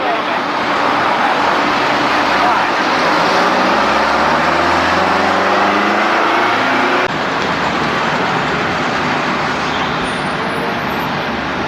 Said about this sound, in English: A lot of traffic today.